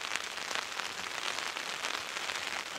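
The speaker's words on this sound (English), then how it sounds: "it's raining pretty good" Steady rain pours outdoors on a desert mesa near Redford, Texas, a dense, even hiss of drops striking the ground for the whole stretch, fairly close and with no voices.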